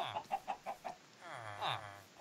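A chicken in Minecraft gives a quick series of five or six clucks followed by a longer warbling cluck, close and fairly quiet, with no voices over it.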